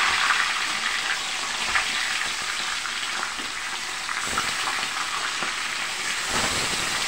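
Tilapia frying in a pan gives a steady, close hiss of sizzling oil with occasional soft pops and crackles, continuing throughout.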